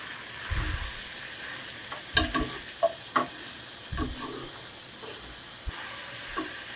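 Taro stems go into a pan of frying prawns, giving a soft sizzling hiss with a few thumps and scraping stirs scattered through, fairly quiet and close.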